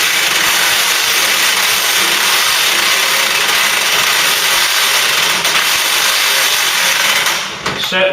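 A bush spins in a puller device on a Ford Cortina, giving a loud, steady whirring and grinding drone that runs continuously before briefly dipping and fading near the end.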